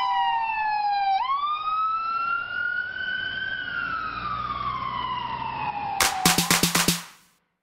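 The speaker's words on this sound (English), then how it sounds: "Watch out! An ambulance is coming." A wailing siren rises and falls steadily, followed by a rapid burst of sharp, loud horn blasts at the end.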